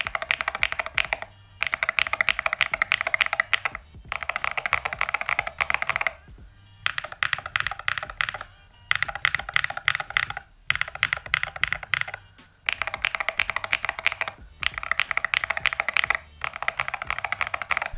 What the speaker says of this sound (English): here's a modded Hall effect keyboard, and here's the sound comparison between these two.